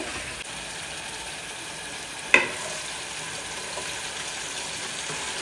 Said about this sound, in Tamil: இந்த வெங்காயம் வந்து நல்ல ஒரு கோல்டன் ப்ரௌன் வந்து பார்த்தீங்கன்னா வதங்கணும்.